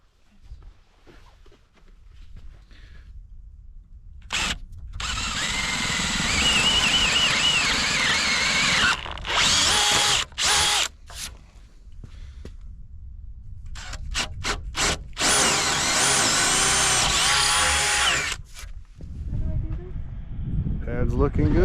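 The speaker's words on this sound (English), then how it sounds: "Right now we're just drilling some holes in this board." A power drill bores holes into a wooden form board for rebar while a concrete pad is being prepared outdoors, loud sustained whirring in long bursts broken by short stops, with people talking in between.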